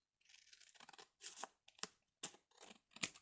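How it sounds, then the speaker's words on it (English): Scissors snip through an oversized paper tag from a mixed media kit in several quick close cuts, each a short crisp crunch with brief pauses between, no talking. "So I'm just going to cut this down and make it work for me"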